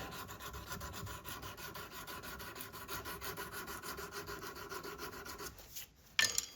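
Small parts from a 1915 Stevens Favorite rifle are polished by hand, giving a quiet, steady rasping rub in even back-and-forth strokes that stops near the end, followed by a brief clink.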